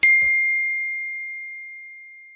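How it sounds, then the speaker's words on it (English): A single bright smartphone notification ding strikes sharply, then rings out as one clean sustained tone that slowly fades across the quiet. "Did you think for a couple of seconds just then that you'd received a notification?"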